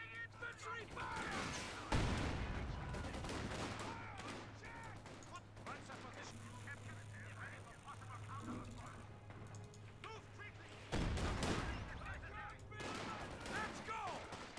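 Infantry gunfire crackles in a WWII strategy game with Panzer IV tanks, with bursts of shots and a sharp loud onset near the start and again later, heard under steady talking throughout.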